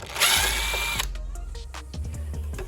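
A power driver whirs steadily for about a second while loosening T15 Torx screws on the battery compartment of a Bird ES-400A scooter, then stops, leaving light clicks and handling noises.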